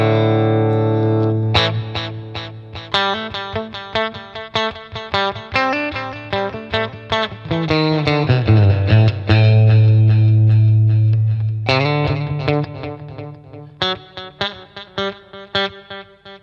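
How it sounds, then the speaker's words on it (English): Electric guitar through a Boss Katana amp with Boss DD500 delay presets, picked notes ringing into repeating echoes, a sustained swelling passage in the middle, loud and close with no voices. "Delay, just some presets on the Boss DD500."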